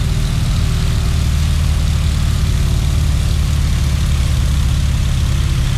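Steady, continuous drone of a propeller aircraft engine held at cruise power with the prop pulled back to 1900 RPM, in the Microsoft Flight game; loud, even low-pitched hum with no talk over it.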